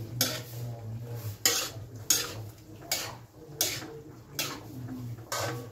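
Chop suey seasoned with Knorr chicken cubes is stirred in a pan: a utensil scrapes and clinks against the metal in steady, evenly spaced strokes, roughly one per second, close and moderately loud over a low background hum.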